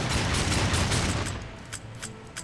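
Rapid bursts of gunfire ring out in the Darksiders II video game, a dense, loud volley that thins into scattered sharper shots toward the end.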